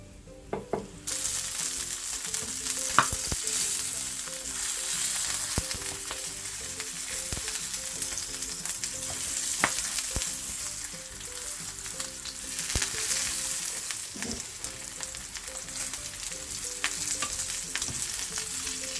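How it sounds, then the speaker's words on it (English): A salmon fillet fries in hot oil in a home kitchen for a teriyaki dish, giving a steady, dense sizzle that holds evenly throughout with a few sharper pops and no talking. "I'm going to add the fish and fry it 3-4 minutes on each side."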